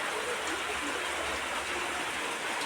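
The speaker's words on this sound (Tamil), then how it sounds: "இவ்வளோ மழை ஃப்ரெண்ட்ஸ்." Heavy rain in Vedaranyam pours down as a dense, steady hiss that stays even and close for the whole stretch, with no voices over it.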